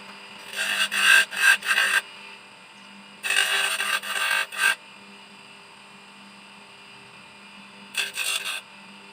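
Three bursts of hand-scraping as a small hole is bored by hand in a washing machine drain part being repaired, each burst a quick run of rasping strokes with quiet pauses between, close and fairly soft.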